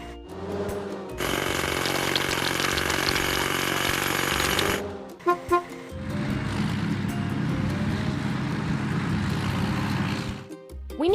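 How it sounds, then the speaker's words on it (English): A hydraulic hammer on construction machinery pounds rocks with a loud, continuous rapid hammering, then stops briefly and resumes as a lower, heavier rumble with a few sharp knocks in between. "Hydraulic hammer."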